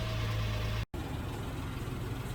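An Acura SLX engine idles with a steady low rumble and a faint whine, broken by a brief drop-out before the even drone resumes, close and continuous with no voices.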